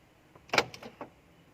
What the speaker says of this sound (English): You want to lock all the doors, you press this button.